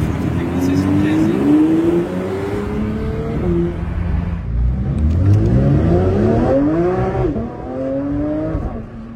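A Porsche 992 GT3 flat-six revs repeatedly on a Dubai street, its pitch climbing in sharp rising sweeps to a high wail, dropping back and rising again, loud and close with traffic noise beneath.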